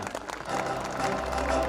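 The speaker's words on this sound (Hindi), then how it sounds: "हम जोरदार तालियों के साथ इन सभी बच्चों का अभिनंदन करते हैं।" Applause from a school audience at an annual exhibition, rising after half a second into a steady, dense wash of clapping that continues to the end, with a voice heard briefly over it.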